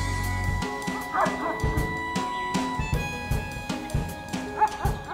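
A livestock guardian dog barks repeatedly near a flock, with short, sharp woofs and a few yips coming in an irregular rhythm, loud and close, with no talking.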